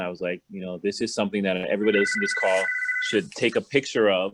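A telephone rings once in the background of a small store, a steady electronic tone lasting about a second beneath continuous talking.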